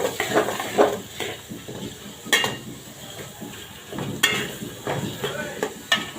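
Chopped onion hits hot oil in a pan with a crackling sizzle, mixed with clattering strokes of a utensil against the pan at an uneven rhythm, heard up close.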